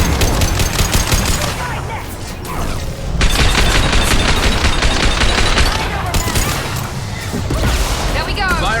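Rapid gunfire bursts from Mass Effect 2 combat, loud and sustained with dense clattering shots and heavy booms, under occasional speech.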